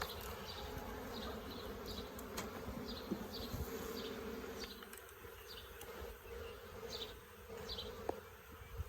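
A honeybee swarm that has moved in hums with a steady, dense buzz, with individual bees droning past now and then, set against faint background noise on a farm.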